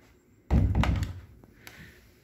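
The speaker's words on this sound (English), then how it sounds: "if you close it, this door does lock in place." An interior door in a two-bedroom home in Kirkland, WA, swings shut with a loud, close thud followed by a brief rattle, then a fainter click as the latch locks in place.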